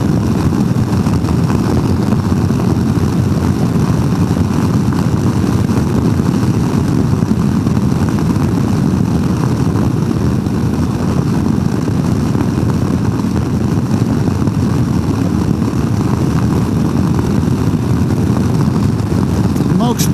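A Royal Enfield Himalayan 450 motorcycle cruises in sixth gear high in its rev range, a loud, dense, unbroken engine drone mixed with heavy wind rush that holds steady throughout, with a rider's voice faintly under it.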